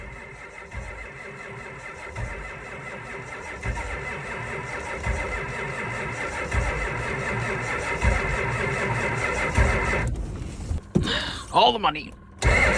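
An old diesel truck with gelled, frozen fuel cranks hard in the cold, its starter grinding steadily for about ten seconds before the engine stumbles and catches with rough bursts, while someone speaks briefly nearby.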